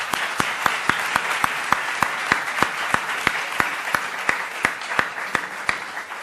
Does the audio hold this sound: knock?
no